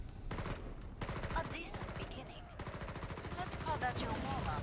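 Continuous rapid automatic gunfire in Killing Floor 2, a loud, dense rattling stream of shots with short pauses between bursts, under shouts and voices.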